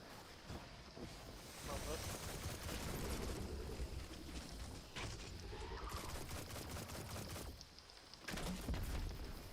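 Dense, continuous gunfire with sharp blasts from flashbangs in the video game Destiny 2, loud and sustained throughout with brief lulls, while players talk over the action.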